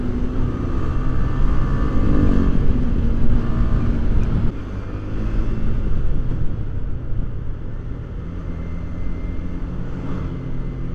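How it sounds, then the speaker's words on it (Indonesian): A motorcycle on an open road near Tretes climbs steadily in engine pitch as the throttle opens, loud and continuous with wind rush, the bike fitted with an assist and slipper clutch. "Buka gas dikit."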